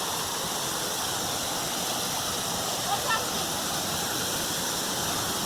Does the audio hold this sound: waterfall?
yes